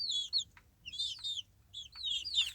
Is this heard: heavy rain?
no